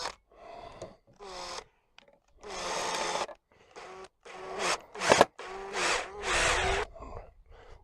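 A power driver whirs in several bursts of varying length, close up, with short pauses between as screws are driven into wood.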